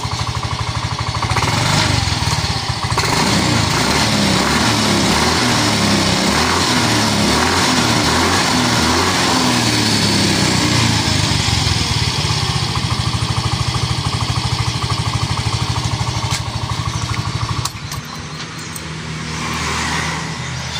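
A small engine runs steadily and loudly for most of the stretch, its buzzing drone close by and dense with harmonics, then drops in level near the end before picking back up.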